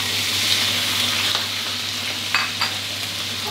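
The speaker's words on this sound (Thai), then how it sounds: "พอกระทะน้ำมันร้อนจัดได้ที่แล้วครับกุ้งครับใส่ลงไปก่อนเลยครับ" Shrimp sizzle in a wok of very hot oil, a steady close crackle and hiss with occasional sharper pops.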